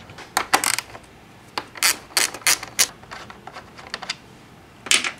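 Small metal clicks and ratcheting taps as a screw is backed out of a car's air filter housing near the throttle body, several quick close bursts with short pauses, no voices.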